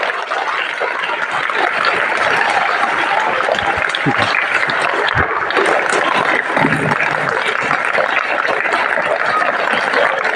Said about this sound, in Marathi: आणि आपण टाळ्यांचा गजर करायचा सगळ्यांनी